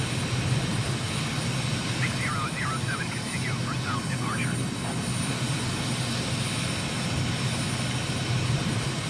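Aircraft engine in flight in Microsoft Flight Simulator, departing Stockholm: a steady, broad engine drone that stays constant throughout at a moderate level, with a faint voice-like murmur briefly over it.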